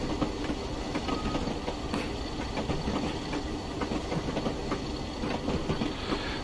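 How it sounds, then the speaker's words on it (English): A Class 40 diesel locomotive with 1Co-Co1 wheels runs in Train Simulator Classic, its rolling train rumble dotted with repeated rhythmic clacks as the wheels cross track joints, no talking. "as we go over track joins, no shortage of wheels making the old clacking noise"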